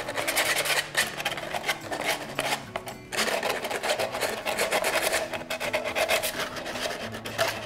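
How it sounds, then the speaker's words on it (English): Sandpaper rasps steadily along the edges of a handmade DIY cellphone holder, a continuous close scratchy scrubbing with brief pauses and shifts in stroke, with no voices. "we're just gonna go along and sand these edges a little bit"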